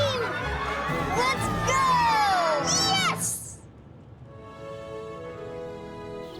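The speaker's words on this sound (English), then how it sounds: "And the crowd goes wild!" A loud crowd at a baseball game in a commercial erupts in cheers and excited shouts, then drops off into a quieter tonal background.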